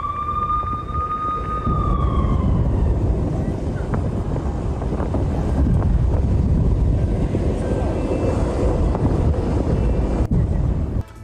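Israeli military warplanes flying over Gaza on bombing raids: a loud, steady jet roar with wind buffeting throughout, opening with a high engine whine that slides downward over the first few seconds.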